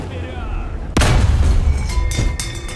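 A tank cannon in War Thunder fires with a sharp, loud boom followed by a rumbling tail, then a couple of lighter cracks; a low engine drone runs underneath.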